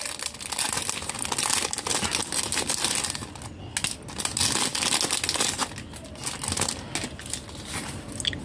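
Packaged RM photocards being unwrapped one by one, plastic wrapping crinkling and crackling in dense, continuous bursts close to the microphone.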